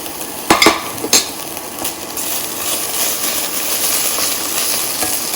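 Ginger-garlic paste drops into hot oil for a tadka for masala Maggi noodles: a few clattering knocks, then a loud, steady sizzling hiss that carries on alone.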